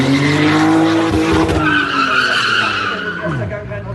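A car drives balanced on two wheels in a stunt at a car show, tyres squealing and scrubbing loudly with a steady engine drone and rising whine throughout, while a commentator talks over it.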